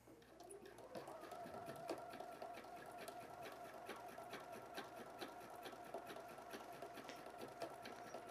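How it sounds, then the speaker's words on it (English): A sewing machine stitching fabric for a bag runs at a steady, even rhythm of rapid needle strokes over a constant motor hum, quiet and close, with no talking. "machine will just stitch the 14 and it will stop when it's done"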